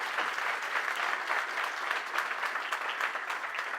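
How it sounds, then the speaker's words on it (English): A wedding audience claps for the parents during the best man's speech, a dense, lively round of applause that holds steady throughout with no voices on top. "Nice round of applause for our parents."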